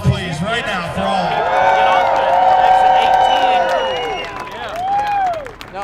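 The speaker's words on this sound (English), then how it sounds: "One big round of applause, please, right now for all" Crowd at a People's Convoy rally in Hagerstown applauding and cheering, a loud sustained wash of clapping and voices with rising and falling whoops on top, swelling again near the end.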